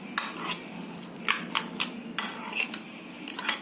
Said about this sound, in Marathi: अंड्यामध्ये थोडं फेटून घेते मी